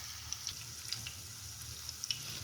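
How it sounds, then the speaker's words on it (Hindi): Potato and coconut kebabs fry over a medium flame in a pan, a soft, continuous sizzle broken by faint scattered pops and crackles, with no talk. "आपने इसे मीडियम फ्लेम पे जो है वो फ्राई करना है"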